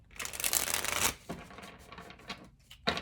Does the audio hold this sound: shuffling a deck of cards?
yes